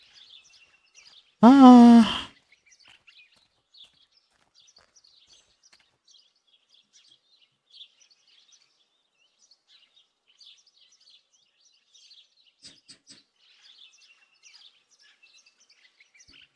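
A brief bird chirp or call inside the video game Martha is Dead stands out near the start, followed by faint ambient tweets, with a short spoken exclamation.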